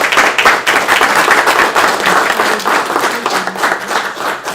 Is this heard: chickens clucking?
no